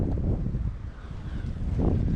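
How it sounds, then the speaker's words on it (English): Strong gusting wind on a farm road in Scotland buffets the microphone in a continuous low roar that swells and surges, loudest near the start and end. "the wind's gusting super strong"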